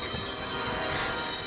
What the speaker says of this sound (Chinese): 这铃声好刺耳，好痛好痛！